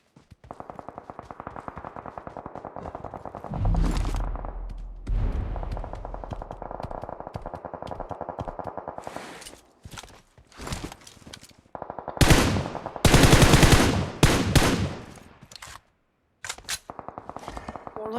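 Automatic gunfire in the PUBG Mobile battle-royale game on the Erangel map, with long sustained bursts and rapid single shots in an uneven rhythm, loud and close, some brief pauses between volleys.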